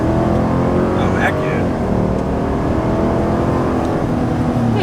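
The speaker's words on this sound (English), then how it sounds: "don't you feel like that was more engine noise than exhaust?" Engine noise from a 2022 Chevrolet Silverado ZR2 pickup fitted with bigger tires and new wheels, a loud, steady low drone heard from inside the cab while driving, with people talking over it.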